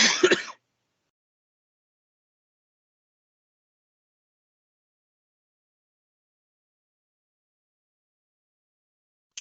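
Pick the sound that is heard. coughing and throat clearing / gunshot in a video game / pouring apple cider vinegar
coughing and throat clearing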